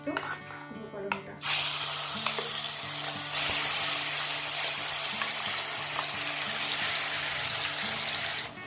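Spice paste hitting hot mustard oil in a kadai, bursting into a loud, steady sizzle that holds without a break, with a few clinks and stirring scrapes over it.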